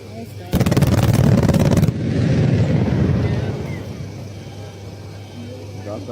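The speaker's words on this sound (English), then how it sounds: "Massive explosion sends dust clouds rising high near the water." A massive explosion near water sends dust clouds rising high. A loud, broad blast roars for over a second, then settles into a long rumbling wash that fades away into the distance.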